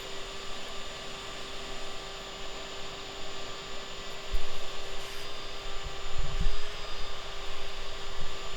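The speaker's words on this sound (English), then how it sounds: "So again, just trying to vacuum off just as many of the mature adults as I can" A vacuum drones with a steady tonal hum while sucking yellow jackets out of an underground ground nest, holding a constant level with a few soft low thumps toward the end.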